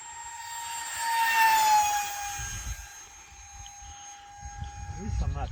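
Rabid Models F104 electric ducted fan jet model flying at top speed, a sustained high-pitched whining whine that swells louder as it passes and then fades into the distance, with faint wind noise and a voice speaking near the end.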